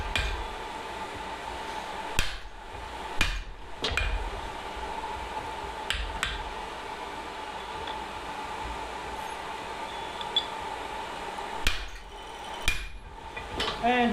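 A hammer drives a wooden handle into a hand-forged dog's head hammer head, giving several sharp, widely spaced knocks over a steady background hum of the forge shop, with no talking.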